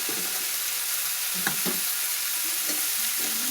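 Jute leaves fry and are stirred in rohu fish oil, giving a steady close sizzle throughout with a few soft scraping stir sounds, no voices.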